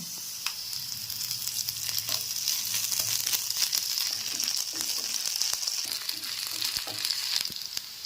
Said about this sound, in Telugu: ఉల్లిపాయ ఎక్కిన తర్వాత ఇప్పుడు ఒక స్పూన్ వరకు అల్లం వెల్లుల్లి పేస్ట్ చేసుకుంటున్నాను